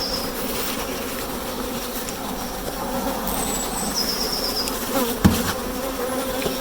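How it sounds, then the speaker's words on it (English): Honey bees in a National 14x12 hive make a steady, close, dense buzzing drone that swells slightly as the colony grows busy, with a brief knock near the end and no voices. "You can hear the bees getting a little bit busy, but these aren't normally aggressive bees."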